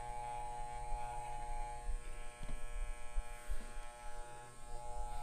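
Electric hair clipper buzzing steadily up close while trimming hair and beard, a constant hum with small scratchy bumps as it cuts.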